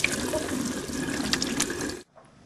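Running water from a sink tap as hands are washed before an abdominal examination, a steady close splashing rush that stops abruptly near the end, leaving quiet.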